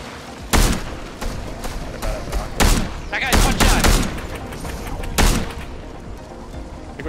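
Rapid gunfire from a Fortnite duos match, with repeated loud bursts and single sharp shots spread across the moment, some booming impacts among them, and players' voices talking faintly underneath.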